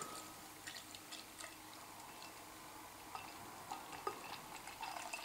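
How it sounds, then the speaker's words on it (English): Batemans Victory Ale, a 6% English beer, being poured into a glass: faint liquid trickle and soft fizzing with a few small clinks, quiet and close, no talking. "So we'll get it in the glass. Here's a pour."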